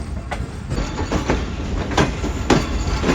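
A train pulls into the platform at Hyderabad Junction, with loud rumbling and periodic clacks of wheels over rail joints, close by.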